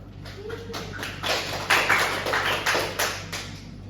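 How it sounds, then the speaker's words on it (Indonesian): A classroom of schoolchildren claps together in a burst of uneven, overlapping slaps, growing louder and more rhythmic toward the end, with no talking over it. "Kita tepuk tangan dulu."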